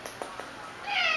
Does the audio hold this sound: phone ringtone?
no